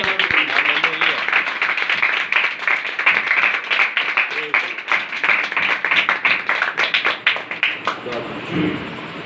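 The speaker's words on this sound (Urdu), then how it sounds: "اپنے پورے زور سے خوشی کے ساتھ تالی بجا دیجیے" A church congregation claps together in a dense, rapid patter of applause, with voices mixed in, fading toward the end.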